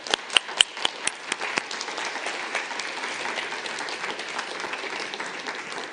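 Audience applause after a university faculty lecture. It opens with a few sharp individual claps, then settles into a sustained, moderately distant wash of clapping from a large hall crowd.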